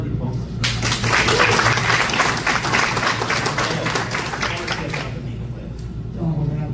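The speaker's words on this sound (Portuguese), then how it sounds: "Uma salva de palmas." An audience at a Rotary Foundation grants management seminar breaks into steady applause lasting several seconds, with a voice talking over the start and the clapping fading as speech resumes.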